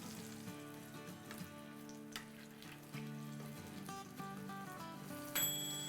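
Minced meat burger patty frying in a pan, a steady soft sizzle with light crackles and a few stirring or flipping touches, heard close and alone with faint background music.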